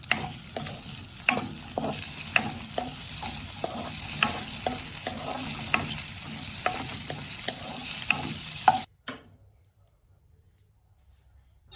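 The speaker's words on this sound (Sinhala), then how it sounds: "ඊළඟට අපි සොසේජස් ටික ෆ්‍රයි කරගමු." Sausages fry in a pan with a steady close sizzle and repeated light clicks of stirring, then the sound stops abruptly near the end, leaving near silence.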